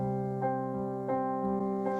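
Piano notes alternate back and forth between two pitches in a steady, gentle rocking rhythm, each strike ringing into the next.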